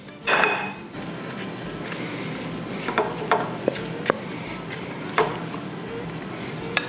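A spoon scrapes and scoops a thick hashbrown casserole mixture out of a bowl into a casserole dish, giving soft wet squelches with a few sharp taps and clinks against the dishes under a steady background hiss.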